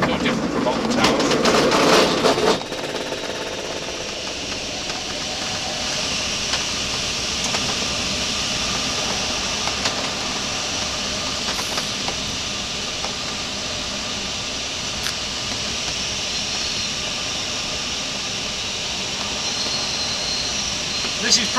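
A passenger airliner's engines give off a steady, even roar through the cabin during the takeoff run, moderately loud and unchanging, with a brief rustle at the start.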